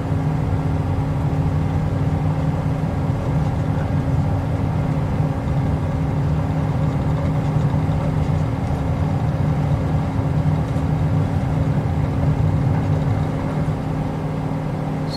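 Steady aircraft engine drone from a small plane in Microsoft Flight Simulator 2020, departing Aurora Municipal; a constant low hum runs unbroken at even loudness throughout.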